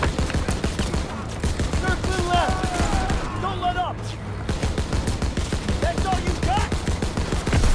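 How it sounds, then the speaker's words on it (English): Rapid, steady bursts of gunfire from Call of Duty WW2 rattle on almost without pause, loud and close, while a voice talks excitedly over the shooting. "Just keep on shooting."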